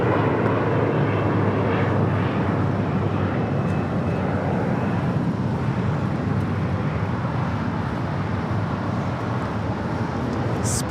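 A JetBlue jet roars steadily down runway 25 Right at LAX on its takeoff roll, a loud continuous engine rumble that holds level throughout with no voices over it.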